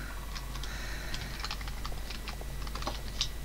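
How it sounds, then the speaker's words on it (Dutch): A cat walks across a computer keyboard, setting off scattered soft key clicks in an irregular pattern, close and fairly quiet over a steady low hum. "Niet op mijn toetsenbord gaan lopen, want er gebeuren er rare dingen."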